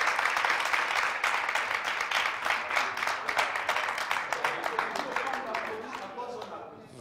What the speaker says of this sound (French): Mesdames, merci d'applaudir.